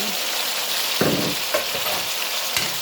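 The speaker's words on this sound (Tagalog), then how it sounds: "Ilagay na natin yung, nag-brown na yung ating onion. Lagay na natin yung kamatis at saka chili." Tomato and chili sautéing with browned onion in a hot pan give a steady, close, loud frying hiss, broken by a few soft spoon stirs.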